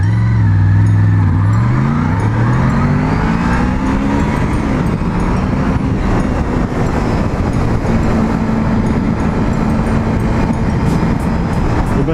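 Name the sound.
Honda VFR 750 V4 motorcycle accelerating from 0 to 90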